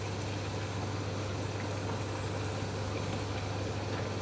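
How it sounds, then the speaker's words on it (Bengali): Colocasia greens (kochu shaak) fry in a pan for a hilsa fish head dish, giving a steady, even sizzle and bubbling hiss that stays constant throughout with no talking. "এই দেখো এবার ভাজা হচ্ছে।"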